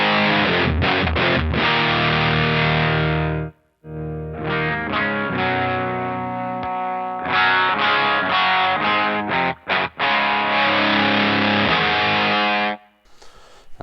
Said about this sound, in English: What I love about the Rat is it does kind of bleed into more of a fuzz once you get higher up in the